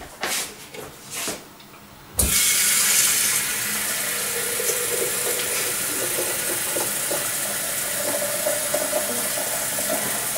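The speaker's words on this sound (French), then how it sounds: "Je prends le bol à eau et je vais le remplir." Water from a tap filling the bowl used for a HOMGEEK programmable coffee maker's reservoir: a few brief splashes, then a steady, loud rushing stream that runs continuously to the end.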